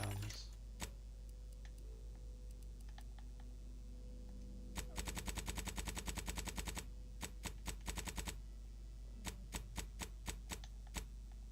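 Heavy machine gun fire in The Outer Worlds 2, loud rapid bursts of shots separated by single cracks and short pauses, over a quiet game background.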